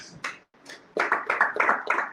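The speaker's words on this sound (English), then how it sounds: "A round of applause for her, please." A launch-event audience gives a guest applause: a few scattered claps at first, then a quick, rhythmic run of close, fairly loud handclaps from a small group.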